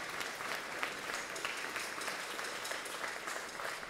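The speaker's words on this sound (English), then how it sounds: "Can I get a round of applause?" Sustained audience applause fills a jazz cabaret after a trumpet solo, a dense steady wash of many hands clapping at even loudness throughout with no talk over it.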